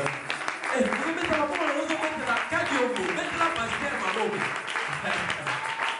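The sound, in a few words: congregation applauding and cheering for the pastor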